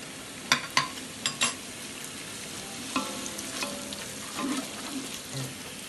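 Carrots sautéing in a pan for Arabian Bukhari rice, with a few sharp scrapes of a spoon against the pan over a low, steady sizzle, close and moderately loud.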